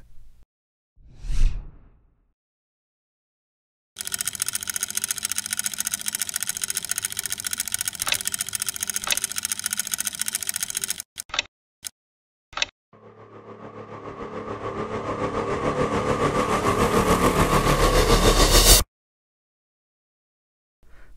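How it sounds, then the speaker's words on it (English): A split-flap text animation sound effect of the kind used on mechanical airport arrival and departure boards: a short whoosh, then a long, dense, even mechanical flutter, a few sharp clicks, and a rising whirring rattle that cuts off abruptly. "I'll show you how to create this split flap text effect."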